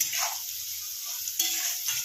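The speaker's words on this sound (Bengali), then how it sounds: "আমার দেখেন আলুটা এরকম ভাজা হয়ে গেছে অর্ধেক।" Potatoes fry in a pan while a utensil stirs them, making a bright, close sizzle with repeated scraping bursts in an uneven rhythm; no one speaks.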